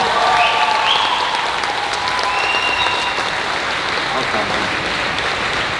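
An audience at a Q&A with actor Kevin McNally breaks into loud, steady applause that fills the room without pause.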